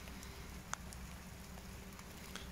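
Rain falls steadily during a night thunderstorm over Olsztyn, a faint, even wash of patter with no clear thunder in it.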